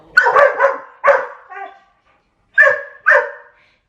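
A large puppy barks loudly and close in a few separate bursts, two quick barks, a softer whiny trailing yip, then two more barks after a short pause, with no talk.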